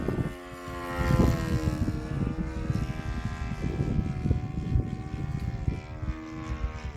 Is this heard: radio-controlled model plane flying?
yes